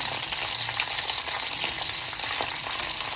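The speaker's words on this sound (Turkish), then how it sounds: "Bakın gayet güzel kızarmaya başladı." Peppers fry in a pan with a steady, close, bright sizzle and crackle that holds evenly throughout, with no talk over it.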